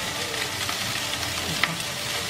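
Sisig meat frying in a pan gives a steady, close hiss and crackle that holds evenly throughout, with a faint clink partway through.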